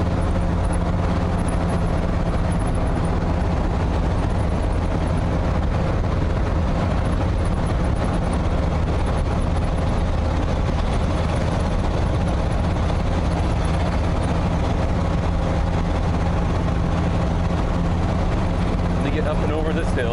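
Loaded ramp truck with a 460 engine and ZF5 gearbox braking in a straight line, a steady loud rumble of engine and road noise inside the cab that continues throughout.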